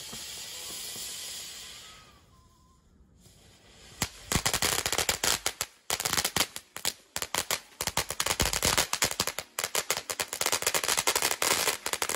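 A Short Stack consumer firework cake, a small California safe-and-sane fountain, fires after a quieter hissing lead-in: a rapid, loud run of sharp crackling pops and bursts that keeps going for several seconds, close by, with no talking.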